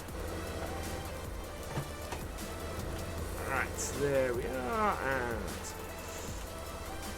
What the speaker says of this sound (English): now we are planting in the rain